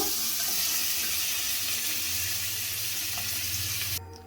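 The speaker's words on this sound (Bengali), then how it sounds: "নুন দিয়ে ভালো করে লাল করে ভেজে নেব পটলগুলোকে।" Pointed gourd frying in hot oil with salt, a steady broadband sizzle with faint stirring that drops abruptly near the end.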